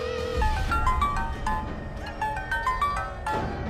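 A phone rings on through a call that goes unanswered, its repeating electronic ringtone pattern of short tonal bursts clear and steady against a faint background.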